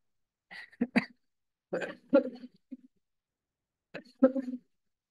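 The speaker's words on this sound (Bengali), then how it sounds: "সরি, কাশি হচ্ছিল।" A person gives several short, dry coughs in three bursts separated by silence, close and moderately loud.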